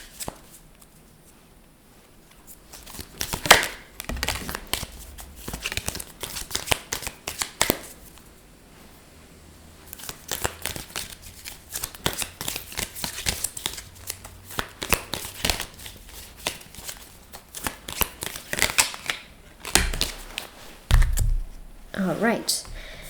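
Oracle cards shuffled by hand, repeated bursts of riffling and flicking paper taps that come and go in irregular clusters, with short pauses between shuffles.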